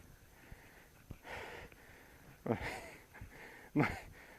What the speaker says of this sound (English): people can now probably just hear my heavy breathing